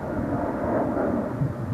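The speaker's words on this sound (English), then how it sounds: "I've seen a lot of airplanes going overhead." An airplane flying overhead near an airport, a low, steady rumbling drone with a touch of wind noise, continuous and moderately loud throughout.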